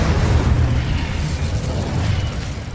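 A fire spell in Hogwarts Legacy erupts as a loud, sustained whooshing roar with heavy low rumble, filling the whole moment without pause.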